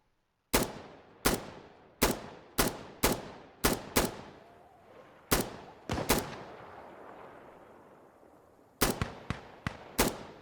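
Rifle gunfire from a video game as an enemy squad is engaged with a point-shooting grip: about a dozen sharp, loud single shots with ringing tails, fired in quick clusters with a brief lull before a final rapid string.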